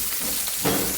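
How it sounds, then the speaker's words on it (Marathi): Stuffed bell peppers (capsicum) frying in a pan give a brief, steady, close sizzle that swells slightly partway through. "आता सगळ्या साईडने आपण असंच थोड्या वेळ म्हणजे 1-2 ते 3 मिनटं आपण सगळ्या साईडने हे छान फ्राय करून घ्यायचं"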